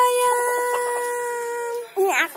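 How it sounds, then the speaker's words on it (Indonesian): A bantam chicken gives a few soft clucks and a short squawk, close by, against a steady electronic hum. "Ayam kate."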